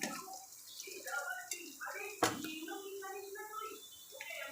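Mixed leafy greens drop onto garlic and green chilli frying in hot oil, giving a soft, watery sizzle with one sharp clatter partway through, heard under someone speaking.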